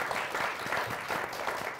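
Audience at a talk show applauds a startup speaker being introduced, a steady, even wash of many hands clapping with no voices over it.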